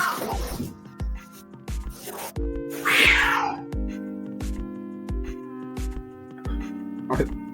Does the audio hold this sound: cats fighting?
yes